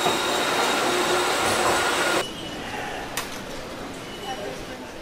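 Riding an elevated light rail train in Kuala Lumpur: a loud, steady rushing rumble inside the carriage drops suddenly to a quieter hum, with a brief click afterward.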